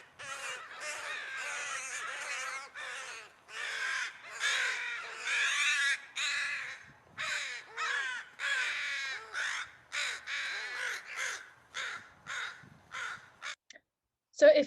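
A pair of crows give loud, rapid, repeated alarm caws in long, harsh bursts, close and insistent, continuing almost without pause.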